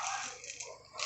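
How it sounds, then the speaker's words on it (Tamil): Mustard seeds drop into hot sesame oil in a pan, giving a brief bright crackling sizzle that stays steady and close throughout. "எண்ணெய் சூடாகிடுச்சு. இதில் கடுகு சேர்த்துக்கோங்க."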